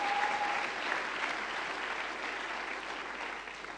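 Church congregation applauding during a French-language sermon, a steady wash of clapping from many hands that holds fairly constant and eases slightly toward the end, with no talk over it.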